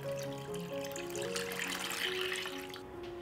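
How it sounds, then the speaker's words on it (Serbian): Water runs from a tap into a cooking pot holding a cloth and glass jars, a steady close trickle whose pitch rises gradually as the pot fills. "Sipat ću vodu u šerpu do visine poklopca."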